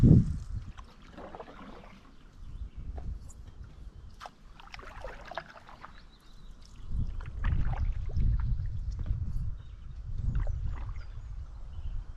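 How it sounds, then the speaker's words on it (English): River water on the River Spey swirls and sloshes against a small boat, rising into a steady rushing wash in the second half, with occasional light knocks and drips. "got a little bit of moving water now"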